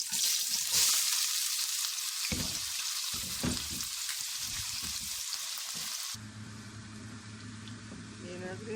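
Onions hit preheated oil for a mutton karahi and sizzle loudly and steadily, the frying easing to a softer, lower crackle after about six seconds, with a voice speaking over the cooking.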